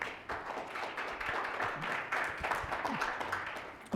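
Applause and scattered clapping fill a Common Council meeting chamber in a steady, dense wash of hand claps lasting several seconds, with a faint murmur of voices underneath.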